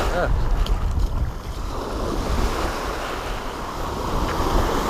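Ocean surf rolls and washes along a shore during a fishing outing, a steady broadband roar with wind buffeting the microphone throughout.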